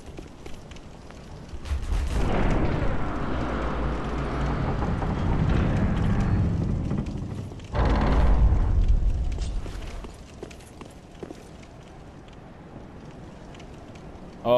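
Fire beam attack in Dark Souls 3, a loud roaring whoosh that rumbles for several seconds, breaks off, then bursts again briefly before dying into a quieter ambient hum; no voices.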